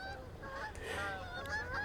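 Waterfowl honk and call excitedly on a Lake Erie beach in the early morning, several overlapping squawks at moderate distance, faint against steady outdoor background noise.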